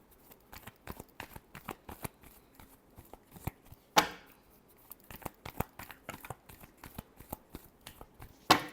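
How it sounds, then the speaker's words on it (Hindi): A deck of cards is shuffled in a long run of rapid, papery riffling clicks, close and soft, with a few louder snaps as the cards fall together. "Last shuffle."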